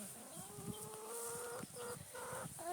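A farm chicken clucks in a short run of close, distinct calls, rising and falling across a few seconds with no talking.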